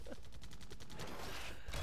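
Rapid cannon fire from a video game, a tickle cannon, pounds out a dense, continuous volley of blasts at steady strength throughout, with no talking over it.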